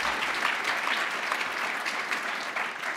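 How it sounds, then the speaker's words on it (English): Steady audience applause fills a Lunar New Year celebration hosted by the White House Initiative on Asian Americans and Pacific Islanders, a dense, even wash of clapping holding at one level from start to finish with no voices over it. "Give Tina Smith a round of applause, as well as Mike"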